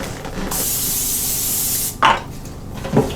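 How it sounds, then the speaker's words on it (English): A can of cooking spray hisses in one steady burst of about a second and a half onto frozen pierogies before they go into a Cosori XL 5.8-quart air fryer, followed by light handling noises. "We just sprayed them a little bit with some cooking spray."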